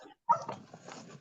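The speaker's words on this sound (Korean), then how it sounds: "강아지가 울고" A dog gives a short, faint whimper amid a noisy room during an online meeting, a brief rising whine that fades under low background murmur.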